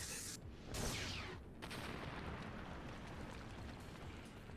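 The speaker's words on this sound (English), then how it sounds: "I love that stock explosion sound effect" A stock explosion sound effect in the visual novel DRAMAtical Murder gives a broad, muffled blast and rumble followed by a steady fading roar, fairly quiet and alone.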